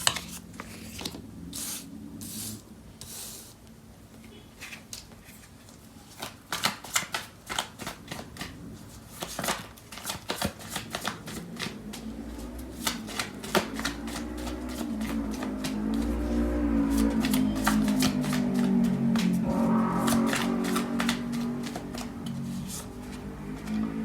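Tarot cards are shuffled close up, a continuous soft riffling and rustling with brief sharp snaps that goes on for over twenty seconds with no talk.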